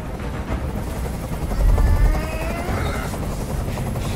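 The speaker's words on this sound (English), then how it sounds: "I can't stand that noise anymore! Tell that helicopter to get out of here!" Helicopter hovering overhead in the video game Detroit: Become Human, a steady low rotor rumble with a swelling thump near the middle, droning continuously beneath faint voices and game ambience.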